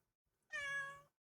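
One cat meows once, a close, clean and sustained tonal call lasting around half a second, with quiet before it and nothing after.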